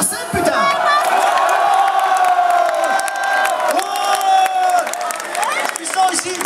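Concert crowd at the Sylak 2015 metal festival during a set cheers, whoops and applauds, a loud, dense roar of voices that surges and dips throughout.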